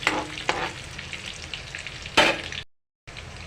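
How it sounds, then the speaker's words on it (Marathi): Curry leaves and green chilies sizzle in hot oil in a pan for sabudana khichdi while a spoon stirs, with steady crackling, a few scraping knocks and a sharp burst before a brief cut, close and without talk. "त्यात कढीपत्ता घाला मिरची घाला मिरची घातल्यानंतर थोडंसं मिक्स करा"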